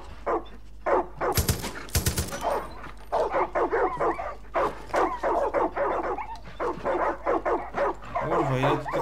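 Several dogs bark and yip in Far Cry 5, the loud bursts coming fast with some overlapping, and someone talks over them for most of the stretch.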